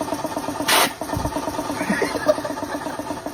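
An air pump runs with a steady mechanical hum as something fills with air, broken near the start by one short burst of rushing air.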